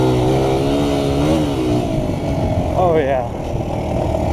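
A small trail motorcycle's engine rises and falls in pitch as it is ridden through tight wooded trail turns, steady and close, with a brief rev near the end while a rider speaks over it.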